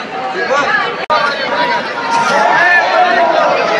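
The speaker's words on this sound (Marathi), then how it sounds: "बघितलं ना किती गर्दी असते, खूप गर्दी आहे मित्रांनो" A large, dense crowd murmuring at Jejuri Khandoba temple in 2023, a steady hubbub of many voices close around, with a brief dropout partway through.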